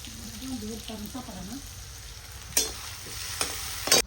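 Vegetables stirred in a pan of hot oil, with a steady sizzle running throughout and a few sharp clacks of the spoon against the pan near the end, while a voice briefly hums or speaks at the start.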